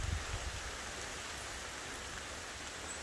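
Rain falls steadily on a strawberry field in an even, unbroken hiss of drops, faint and constant, with nobody speaking.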